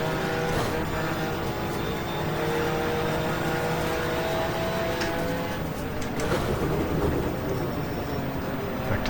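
Touring car from the 1987 British Touring Car Championship, round six at Silverstone, downshifting to third gear: a loud, continuous racing engine roar with a shifting pitch, close and steady throughout.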